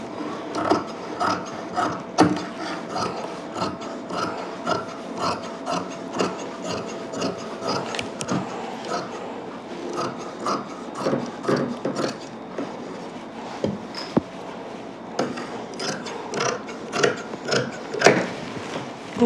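Scissors cutting through old saree fabric in a long series of close, rhythmic snips and crunchy blade closes, repeating steadily with no talk.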